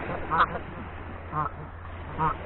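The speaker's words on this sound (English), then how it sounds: "Canada geese" Three honking Canada goose calls sound at spaced intervals, nasal and fairly close, over a low steady background rumble.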